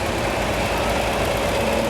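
A 40-20 diesel tractor in a town parade runs with a steady, loud chugging idle, the engine knocking evenly throughout without any talk.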